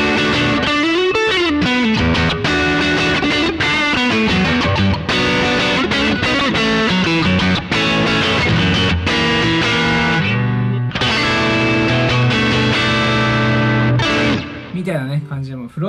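Suhr electric guitar played through heavy distortion on the front pickup, sustained chords and riffs ringing loud and continuous, ending with a fade into quieter notes.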